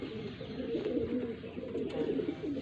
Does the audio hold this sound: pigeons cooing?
yes